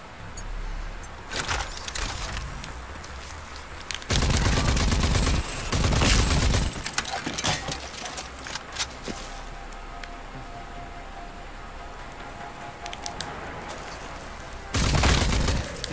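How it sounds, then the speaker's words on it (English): Assault rifle fire in the game Rage 2, heavy bursts of automatic shots around 4–6 seconds and again at the end, with lighter intermittent firing and a steady noisy backdrop between. "Switch to the assault rifle."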